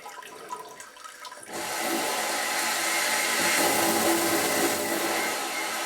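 An Eco-NOVA bidet seat's posterior wash starts up, a steady hissing water spray that switches on after a quiet moment and runs continuously, close and fairly loud.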